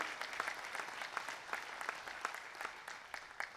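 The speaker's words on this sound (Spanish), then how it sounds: "Denle ese fuerte aplauso al Señor." A church congregation claps together in a quiet, distant wash of applause with a few sharper claps poking through, lasting a few seconds.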